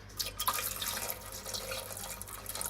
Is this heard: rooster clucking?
no